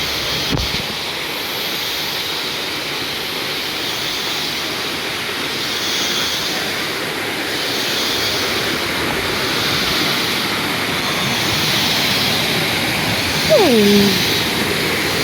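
A small jungle river in Costa Rica flows with a steady, broad rushing wash that stays even throughout. A brief voice-like chirp cuts in near the end.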